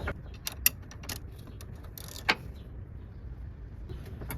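Tightening a bolt with an E10 Torx socket while replacing a rear motor mount on a 2.5L Ford Escape: scattered metallic clicks and ratcheting creaks with one or two sharper clanks, close and fairly clear.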